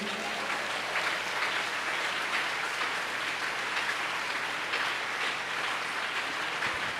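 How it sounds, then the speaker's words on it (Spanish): A church congregation claps in a sustained, dense round of applause that holds steady and fairly loud for several seconds without breaks. "Dele un aplauso a la gloria de Dios."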